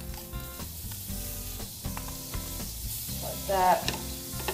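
Butter melts and sizzles in a pan with liver pieces, a steady frying hiss under background music, with a brief spoken voice near the end.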